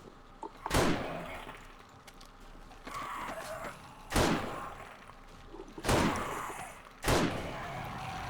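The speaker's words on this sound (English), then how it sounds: "if I have a gun, I'm just going to shoot them" Gunshots fired at zombies in 7 Days to Die: four loud, sharp reports spaced a second or more apart, each with a short echoing tail, and faint clatter and movement sounds between them.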